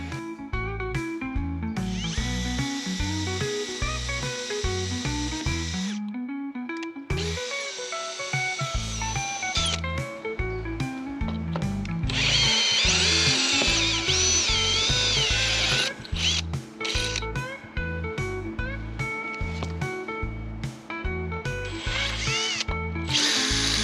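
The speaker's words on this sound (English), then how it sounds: "let's drill a hole." A power drill drills a hole in a sailing yacht under restoration, running in repeated bursts, whirring up and stopping, with some tonal mechanical whine throughout; loud and close, no voices.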